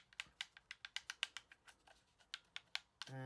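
An Xbox Series S controller's buttons click in a quick irregular series of sharp taps, close and fairly quiet, ending with a louder burst of noise.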